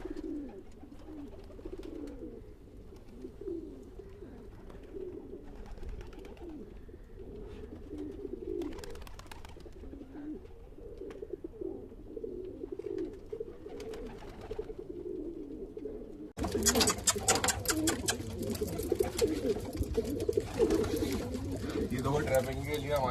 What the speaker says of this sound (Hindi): ये दो ट्रैपिंग के लिए हमारे कबूतर